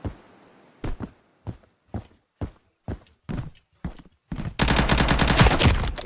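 Gunfire in the tactical shooter game Blackhawk Rescue Mission 5: eight sharp, evenly spaced single shots ring out loud and close, then a dense, continuous burst of rapid automatic fire takes over.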